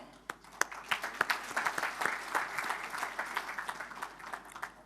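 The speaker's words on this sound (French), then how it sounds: "Cela mérite nos acclamations" Delegates at the opening of a national development plan conference in Chad applaud, starting with a few sharp isolated claps that build into steady moderate applause from a sizeable hall.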